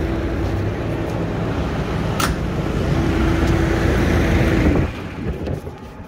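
A turbocharged Polaris RZR Pro R roars on dyno rollers, a loud sustained engine drone with rough, chattering tires, then it cuts off abruptly near the end.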